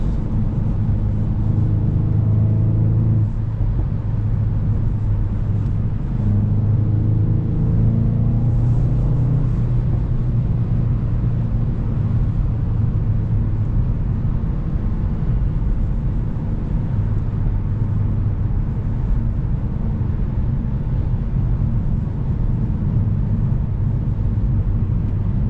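A 2022 VW GTI Launch Edition's engine drones low and steady from inside the cabin while driving, a constant loud rumble with a couple of brief rising rev sweeps early on.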